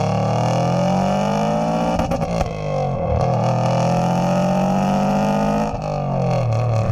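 Interior engine roar from a 400 hp Subaru Impreza RS under hard acceleration, a loud sustained turbocharged drone rising in pitch with brief gear-change dips, steady and close throughout.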